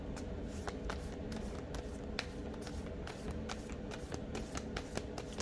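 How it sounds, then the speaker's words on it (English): Playing cards being shuffled and pulled from a deck by hand, a rapid series of crisp riffling snaps and flicks repeating steadily throughout, close and fairly quiet with no talking. "I'm going to pull a couple cards here"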